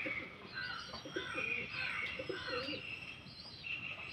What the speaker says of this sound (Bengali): কিছু পায়রা লেবে গেছে, খেতে শুরু করে দিয়েছে